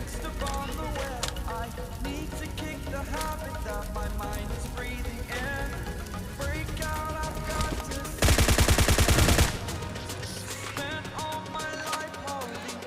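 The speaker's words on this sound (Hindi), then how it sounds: "यहाँ पे वो मेरे को फायर करता भाई" Gunfire in the mobile battle-royale game PUBG Mobile, a sustained loud burst of rapid automatic shots over a continuous bed of game music and effects, standing out sharply for about a second.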